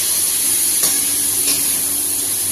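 Ingredients sautéing in a pan in a home kitchen during lunch cooking, a steady close sizzle and hiss with faint stirring scrapes, continuous throughout with no talking.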